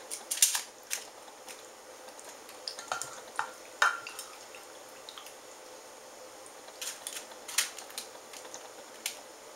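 Gluten-free mac and cheese is scooped into cups, giving close, quiet squishes, clicks and taps of a spoon against containers in sparse irregular bursts, with no talking.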